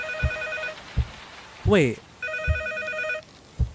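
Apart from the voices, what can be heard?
telephone ringing in a scary video game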